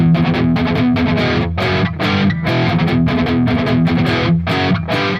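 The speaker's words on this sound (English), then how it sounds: "But one of the guitars is supposed to go like this." Heavily distorted electric guitar plays a rhythmic rock riff, loud and close with repeated chugging strums and short gaps between hits, no talking.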